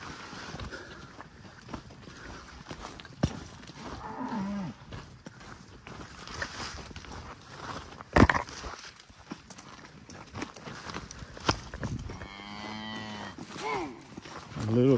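Cattle moo several times during a spring roundup, including a long clear call near the end, over hoof clops, footsteps and rustling outdoors.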